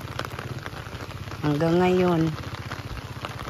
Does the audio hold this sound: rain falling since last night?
yes